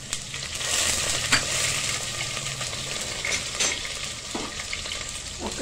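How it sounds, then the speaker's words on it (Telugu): Slit green chillies sizzle in hot oil alongside a small chopped onion, a steady bright frying hiss with occasional stirring clinks and scrapes from a utensil, close and continuous with no talking. "ఇవి 4-5 పచ్చిమిర్చి చీలికలు,"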